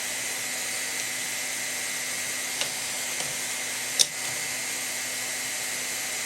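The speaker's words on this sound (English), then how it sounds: "Now let's try to weld the plastic." A VEVOR 1600W hot air tool welds plastic with a steady high airflow hiss and hum, broken by a couple of small clicks.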